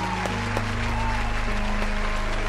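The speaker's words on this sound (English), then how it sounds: "Clap it up, clap it up, clap it up, clap it up" Steady, dense clapping from a group of people continues without a break, with faint tonal sounds in the background.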